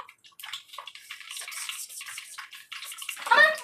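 Water runs and splashes in short uneven bursts during washing in a kitchen, fairly close, ending in a louder gush.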